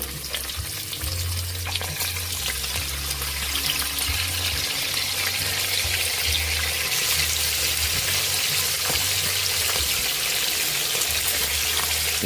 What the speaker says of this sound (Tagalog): Magpiprito na po tayo ng fried chicken.